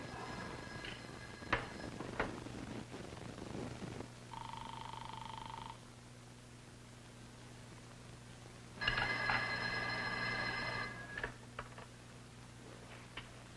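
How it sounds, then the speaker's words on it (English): A telephone bell rings in two long bursts in a quiet indoor room, with faint background hum between the rings. "Ruth, don't you hear the phone?"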